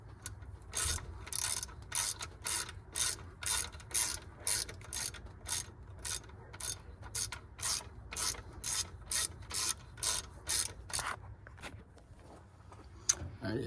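A hand ratchet tightens bolts on the power steering pump of a 1992-97 OBS Ford F150. About twenty rapid, steady clicking strokes sound up close, then they stop, leaving quiet shop background.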